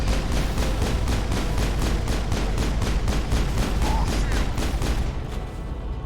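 Gun turrets in the video game Mass Effect fire a loud, continuous barrage of rapid, evenly spaced heavy shots that keep going before easing off near the end, with no talk.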